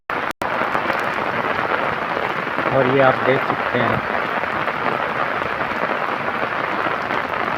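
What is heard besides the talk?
heavy rain falling during flood in Cormons, Italy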